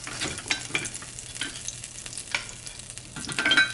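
Butter frying in a pan over medium-high heat, a steady crackling sizzle with small bursts of stirring or spattering, fairly close and continuous, with no voices.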